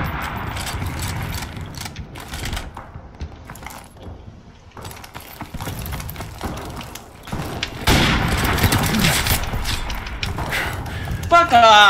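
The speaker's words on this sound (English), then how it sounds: "I shot you with the shotgun twice!" Shotgun blasts in Call of Duty Modern Warfare Gun Game mode, a few sharp loud shots amid clattering game effects, with players talking over them.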